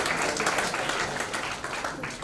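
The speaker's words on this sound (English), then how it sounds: "Great round of applause please" Audience applause fills a CA students conference hall in Kumbakonam, a dense, steady wash of many hands clapping at close range for the whole short stretch.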